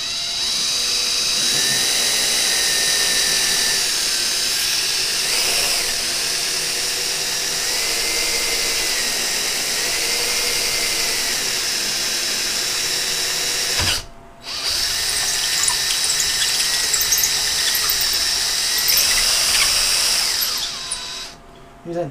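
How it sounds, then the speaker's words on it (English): A power drill bores through the plexiglass case of a Cube computer, a loud continuous high whine that holds for long stretches, pauses briefly midway, then resumes with slight pitch shifts. "These ain't the best drill bits."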